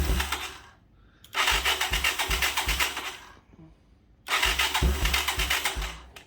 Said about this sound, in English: you guys heard it run. You guys heard it turn over and fire quick.